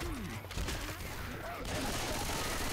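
Rapid bursts of gunfire from the Xbox One game Left 4 Dead 2 during a zombie fight at the Dark Carnival, dense and loud alongside game noise and chatter.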